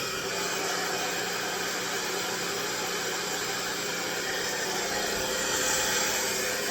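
A blow dryer runs steadily on a cool setting while drying curly, wavy hair, giving a constant broadband whooshing hum with no pauses and no talking.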